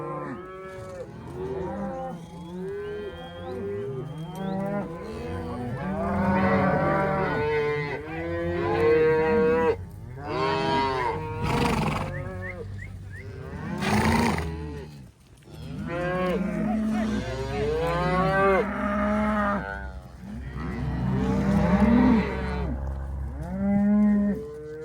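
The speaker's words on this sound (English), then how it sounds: "These calves do not feel like being pushed." Branded calves and cows on a desert ranch, bawling and mooing loudly as they are pushed along, many overlapping calls in a continuous close chorus with brief pauses.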